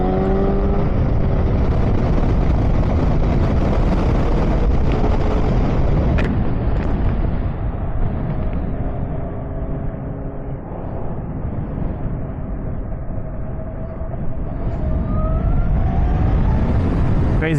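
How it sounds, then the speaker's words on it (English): A Harley-Davidson LiveWire electric motorcycle pulls away hard, its rising electric whine blending with loud, steady wind roar that stays near and constant for the whole ride, with no speech. "Crazy how quickly it accelerates,"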